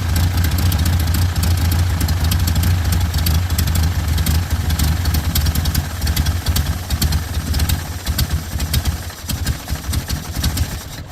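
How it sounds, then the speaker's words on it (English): A 1972 Toyota Corolla TE28 with carburetor trouble idles with a steady, close, rumbling low engine note that roughens and wavers slightly toward the end. "Alright, so I guess I got it to idle."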